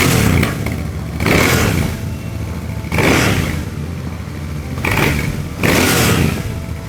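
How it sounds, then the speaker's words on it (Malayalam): A Royal Enfield Bear 650 twin-cylinder motorcycle is revved through its exhaust, with four loud throttle blips rising and falling at regular intervals over a rumbling idle, recorded up close with no talking. "നമുക്കിതിൻ്റെ എക്സോസ്റ്റ് സൗണ്ട് ഒന്ന് കേട്ട് നോക്കാം."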